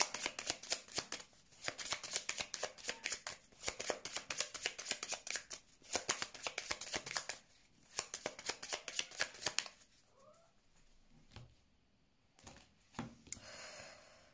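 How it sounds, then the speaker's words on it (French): Tarot cards shuffled for a nine-card spread, dense rapid riffling bursts up close for about ten seconds, then quieter handling and a few soft rustles with faint breathing. "On va faire un tirage en 9 cartes."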